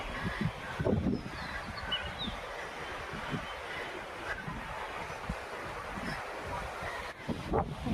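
Strong wind buffets outdoors among trees, a continuous rushing hiss with gusty bursts and microphone thumps, loudest near the start and end.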